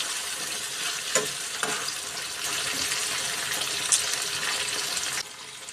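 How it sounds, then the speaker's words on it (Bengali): Chopped tomatoes and onions frying in a pan for a dried-fish bhuna, a continuous hiss of sizzling with a few soft stirring scrapes, ending abruptly near the close. "টমেটোগুলো দিয়ে এখানে আমি আবারও নাড়াচাড়া দিয়ে ভালোভাবে টমেটোগুলো একটু সিদ্ধ করে নিব"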